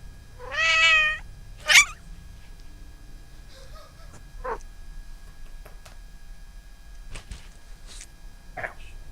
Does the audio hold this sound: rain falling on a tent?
no